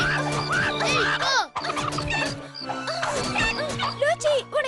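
A chicken in a Tamil-dubbed cartoon makes busy squawks and gobbling clucks almost continuously, mixed with excited voices that talk over much of it.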